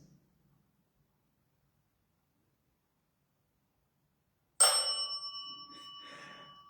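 A small bell rings out sharply after several seconds of near silence, its bright metallic tone holding clear overtones and decaying, then ringing again more faintly, in a quiet room of an old asylum.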